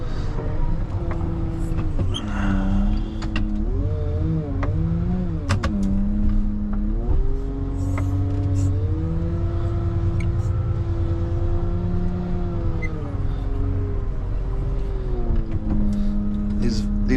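A Volvo wheel loader's diesel engine runs steadily while plowing farm driveways, its droning hum shifting pitch as the load changes, loud and close.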